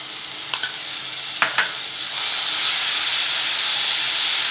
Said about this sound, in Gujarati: આ રીતે આપણે સતત ચલાવતા જઈને અડધી મિનિટ સાતળી લઈશું।